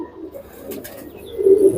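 An Allahabadi pigeon at a pigeon show in Jaipur gives a short, low coo near the end, close and fairly loud after a moment of soft background sound.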